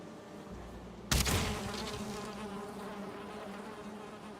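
Bees buzzing near a beehive in a video game, a sudden loud swell of insect drone that settles into a continuous hum, with no talk.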